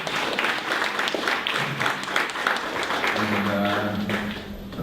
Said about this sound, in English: let's give Megan McCann one more round of applause